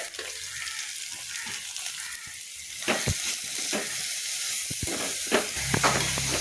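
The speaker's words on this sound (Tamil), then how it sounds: "வெங்காயம் முதல்ல வதக்குவோம். வெங்காயம் நல்லா வதங்கணும்." Sliced onions sautéing in a pan for a Batticaloa-style prawn curry, a soft steady sizzle that grows louder partway through, with a few sharp clinks of stirring.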